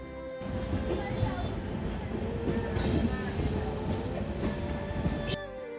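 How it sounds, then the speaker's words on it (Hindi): Kasganj–Aishbagh Express passenger train rolling through a curve in the middle of Bareilly city, with a continuous close rumble of carriages and wheels plus faint squeals, heard from aboard while someone talks over it. "बरेली शहर के बीचों बीच से होते हुए हमारी ट्रेन यहाँ से आगे बढ़ रही है।"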